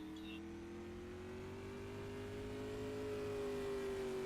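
A Coors Light Disturbed Motorsports non-wing supermodified race car at time trials, its engine droning steadily and rising slightly in pitch as it revs, loud and continuous throughout.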